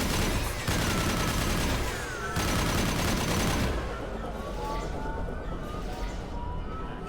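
Sustained rattling gunfire fills a Mass Effect Legendary Edition 2 battle during the Suicide Mission, steady and loud throughout with brief dips between volleys.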